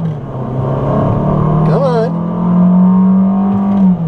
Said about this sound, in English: this time I'm gonna use the manual mode in the 6-speed dual clutch transmission